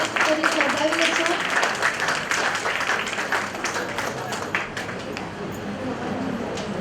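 An audience applauds warmly at a ceremony, with dense, steady clapping that fills the whole stretch and stays loud before tapering slightly toward the end.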